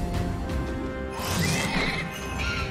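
A ghostly horse in the video game Child of Light lets out a close, loud whinny over a crashing, clattering game sound effect, a brief burst lasting under three seconds.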